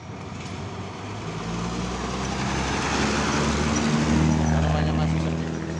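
City bus from JMP rolling into the entrance of Purabaya Bungurasih bus terminal in Surabaya, a low droning diesel engine that grows louder as it approaches over steady traffic noise, with a voice talking over it.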